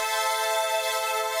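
A bright, dense Sytrus synth lead chord with slow chorus is held as one sustained, steady tone, thick in the upper range with no low end, playing alone for a moment.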